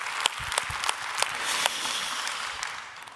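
A church congregation applauding during a Korean service, a continuous spread of clapping from many hands with a few sharper individual claps standing out, moderately loud and without speech.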